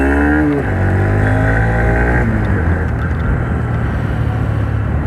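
Honda SP125 BS6 motorcycle of 2020 ridden with a passenger aboard, its engine rising in pitch as it pulls through the gears, steady and close under wind noise throughout.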